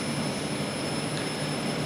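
Jet engine on an SK60 trainer jet spooling up during a cold start in the DCS flight simulator, a steady broadband whine and roar holding at an even level with a faint high tone above, no voices.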